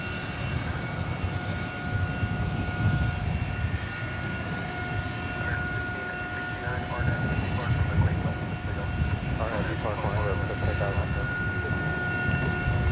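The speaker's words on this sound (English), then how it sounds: "A330-300, 10-year-old plane. Headed back to Madrid there, passing in front of the Hyatt Hotel" A ten-year-old Airbus A330-300 jet bound for Madrid passes at night on the east side of DFW Airport, a steady low engine roar and rumble with a faint voice now and then underneath.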